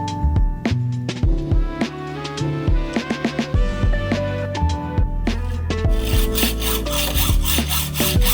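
A hand saw cuts through a bicycle fork steerer tube with a steady back-and-forth rhythm of rasping strokes, close and loud, with no talk.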